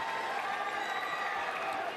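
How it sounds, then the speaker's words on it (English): Basketball arena fans at a PBA Commissioner's Cup Finals game applaud and cheer as rookie Kyt Jimenez checks in, a steady, fairly loud roar of clapping and crowd noise throughout. "It's rare that a guy who's the last guy coming off the bench gets that type of applause"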